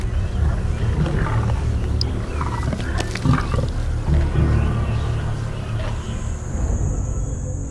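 Lions give deep, rumbling roars that swell and fade over several seconds against an outdoor background, carried close and loud with a low growling texture.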